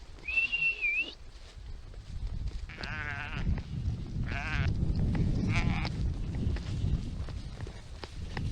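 Sheep bleat in a pasture with temporary fencing as they are coaxed over, several wavering bleats at moderate distance after an opening whistle, over a soft outdoor background.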